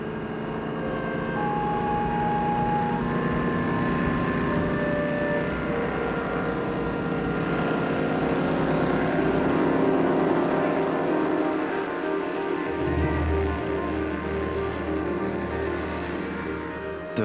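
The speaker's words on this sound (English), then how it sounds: "The Vimy has passed the first test. It can fly." Replica Vickers Vimy biplane in flight, a steady, loud droning engine roar that holds throughout with a deeper rumble rising near the end, no voices.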